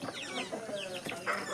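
A hen clucks repeatedly at close range, a series of short, choppy calls in quick succession.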